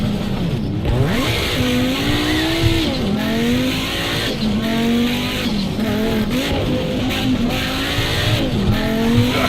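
An Audi rallycross car races in a video game, its engine revving loudly in rising and falling sweeps through gear changes, with tires squealing throughout and no talk.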